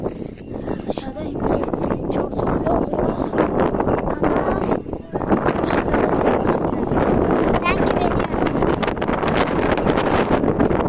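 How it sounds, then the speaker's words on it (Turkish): Strong wind buffets the microphone with loud, rumbling gusts while people talk underneath. "Çok rüzgar var."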